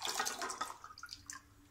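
Just-boiled water from a kettle poured into a measuring cup while making homemade white bread, a soft, brief splashing trickle that fades out, faint and close.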